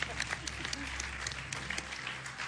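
Studio audience on a live Turkish television game show claps for a contestant, a dense patter of hands running steadily the whole time with voices mixed in underneath.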